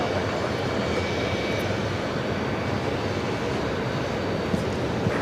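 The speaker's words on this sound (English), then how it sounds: "Air Serbia now rolling down at 13 right." An Air Serbia airliner rolls down runway 13 right at JFK for takeoff, with a steady, loud engine roar that holds level throughout and no talk.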